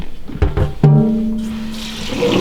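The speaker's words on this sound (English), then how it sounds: "We're going to go over to my sink where I've got my organic turmeric raw waiting on us to wash it up" A sink tap runs over raw organic turmeric roots, starting with a few knocks and a squeak, then a steady rush of water that swells toward the end, heard close and with no talking.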